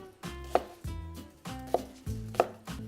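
An onion being chopped into large pieces with a knife on a cutting board, with three distinct, evenly spaced thuds close by and quiet between them.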